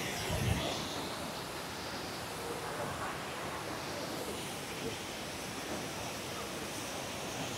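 Steady, dense rushing of fast waterfall water roars continuously at close range, a constant broadband wash with no pauses.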